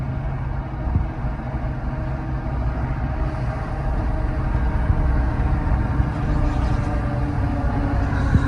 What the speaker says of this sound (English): you can hear that exhaust brake when I let off and we're going downhill